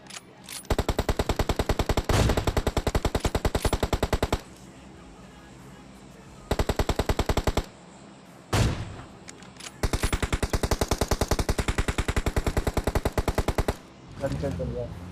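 Rapid bursts of gunfire in the BGMI battle royale game, loud repeated rhythmic shots in several long strings separated by short pauses, with a few single louder cracks between bursts.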